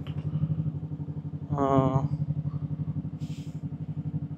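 A Bristol Venturi 500 motorcycle on the road sets up a steady, rhythmic low engine throb, with a brief voice cutting in partway through.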